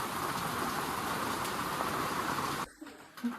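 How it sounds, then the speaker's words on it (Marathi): Steady rain falling outside a home in rural Konkan makes an even hiss for most of the clip, then cuts off sharply near the end, leaving quieter background sounds. "पाऊस बघू शकता, पाऊस पडतो इथे."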